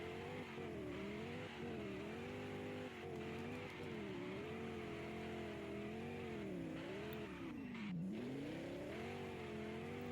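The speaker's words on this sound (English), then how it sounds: "This thing is very good at doing donuts." A Porsche 718 Cayman GT4 RS spins donuts with traction control off, its engine holding a high, wavering howl as revs rise and fall in steady cycles, loud and close, with a sharp dip and recovery near the end and no talking.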